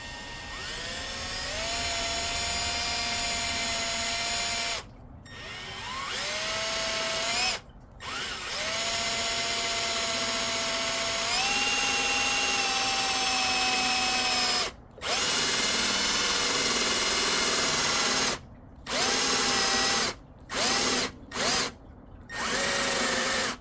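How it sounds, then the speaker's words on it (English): A power drill whines loudly and steadily, pitch shifting as it bites through a door while installing a smart lock, stopping briefly several times before starting again. "then we just got to drill straight through"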